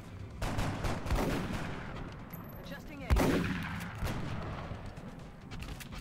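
Reaction-fire gunshots in the XCOM: Art of War strategy game, several loud overlapping game gunfire bursts and a sharp heavy blast midway, with rumbling echoes trailing off.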